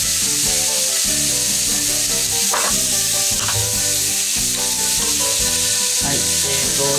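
Ingredients seasoned with salt and pepper brown in a pan over medium-high heat, a dense steady sizzle with a few stirring scrapes, heard under constant background music.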